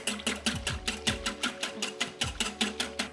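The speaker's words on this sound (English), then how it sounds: "I'm just going to whip some cream, and I'm just going to do this by hand" Cream is whipped by hand with a whisk for a matcha Swiss roll cake, making steady, rapid, evenly spaced strokes against the bowl, close and continuous with no voices.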